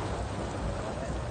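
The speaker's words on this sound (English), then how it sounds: "Rain!" Steady rain falling in the Tucson desert, a dense, even hiss and patter that fills the short stretch at moderate loudness with no pauses.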